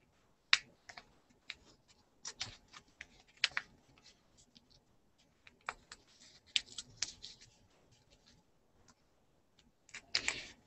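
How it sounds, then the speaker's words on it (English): Scissors cutting a circle out of quilt batting for fabric earrings, with soft, close snips and crisp clicks coming in irregular clusters and short pauses between cuts. "And then I'm going to cut out one more circle out of my batting."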